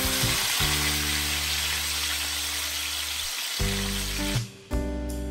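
Pieces of meat frying in a pan sizzle steadily and loudly, with a constant hiss and a brief pause near the end, no voices present.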